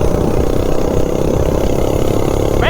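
Minibike engine fitted with a five-foot intake runs steadily at high revs, a loud, continuous buzzing drone held close throughout, with a brief rising whine at the very end.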